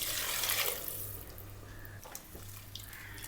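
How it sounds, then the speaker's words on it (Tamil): Three cups of water poured into a pressure cooker pot holding biryani masala and boiled chickpeas for chana biryani; a steady splashing pour runs nearly throughout, easing into lighter trickles and drips, with no talking. "இப்போ இது கூட 3 கப் தண்ணி சேர்த்துக்கலாம்."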